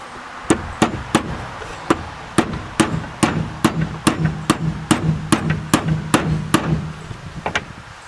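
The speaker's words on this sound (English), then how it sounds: "but to pound it in, they don't give you a lot of room." A pin is hammered into a Terra Jet front hub during a rebuild: about twenty loud, close metallic strikes, spaced at first and then coming faster and evenly, each ringing briefly, with no talking.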